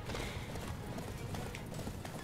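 Horse hooves clip-clop steadily at a gallop in the Attack on Titan video game, a fast continuous rhythm close up with a brief whinny, while a voice talks faintly underneath.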